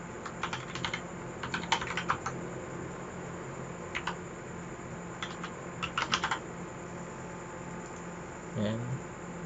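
Login credentials are typed on a computer keyboard in short, irregular bursts of light clicking keystrokes with pauses between, fairly quiet over a low hum, ending with a brief murmur of a voice.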